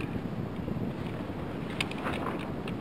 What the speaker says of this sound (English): North wind is bitter.